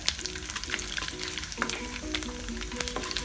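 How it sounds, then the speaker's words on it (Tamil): Dried red chilies, curry leaves, fennel, cumin and cinnamon sizzle and crackle in hot oil while being sautéed for Tamil coconut rice, with short stirring scrapes over the steady frying. "நல்லா ஒரு நிமிஷம் நல்லா வதக்கிடலாம்."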